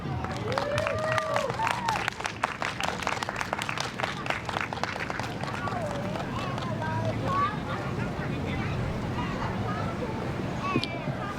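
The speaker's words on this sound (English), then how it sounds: "Let's give her a big round of applause." An outdoor evening crowd claps steadily for a performer, dense applause throughout with scattered cheers and whoops, voices calling out over the clapping.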